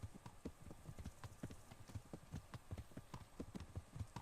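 A horse ridden at a steady gait in a medieval role-playing game, rapid regular clip-clop hoofbeats close up and continuous, alone without talk.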